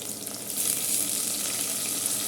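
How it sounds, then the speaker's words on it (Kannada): Capsicum frying in oil in a pan, a steady, loud, close sizzle that swells slightly after a moment and holds without pause. "ಅದು ಸ್ವಲ್ಪ ಎಣ್ಣೆಯಲ್ಲಿ ಫ್ರೈ ಆಗಬೇಕು ನೆಕ್ಸ್ಟ್ ನಾನಿಲ್ಲಿ ಕ್ಯಾಪ್ಸಿಕಮ್ನ ಹಾಕ್ತಾಯಿದ್ದೀನಿ"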